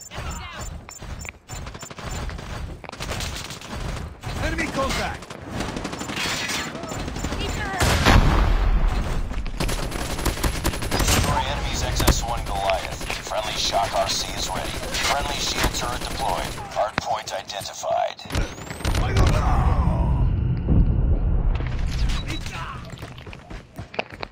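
Dense gunfire and explosions fill a first-person shooter video game match, with rapid automatic bursts layered over constant loud battle noise and occasional quieter gaps.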